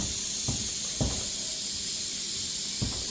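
Steady hiss and sizzle as melted butter is poured over hot food, a continuous bright crackle with a few soft knocks, no talking.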